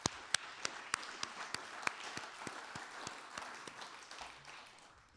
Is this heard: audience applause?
yes